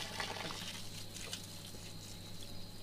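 Rainforest spring water pours from a natural energy pump into two bottles at once, a soft, steady trickle and gurgle of liquid running quietly throughout.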